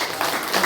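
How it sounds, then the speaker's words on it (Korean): A church congregation applauds during a Sunday worship service, a short burst of clapping that swells briefly toward the end. "여러분 우리 박수로"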